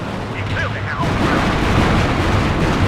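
An explosion in the Cold War real-time strategy game WARNO, amid tank combat in open fields: a loud, sustained broadband rumble swells in after about a second over steady background battle noise.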